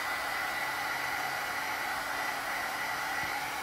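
A hair dryer blows steadily on oxide inks to dry them, a loud, even whoosh of air with motor hum that runs unbroken from start to finish, with no talk.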